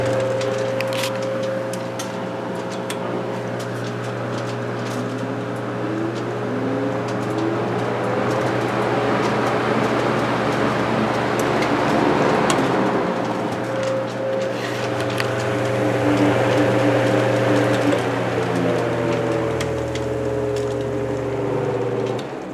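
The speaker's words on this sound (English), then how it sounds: "now this is a high revving fan when compared to the 16-inch." An antique electric fan with freshly replaced oil wicks and oilite bushings, running at high speed, gives a steady motor hum with overtones that slowly rise and fall and a faint airy whoosh. It runs alone and unbroken throughout.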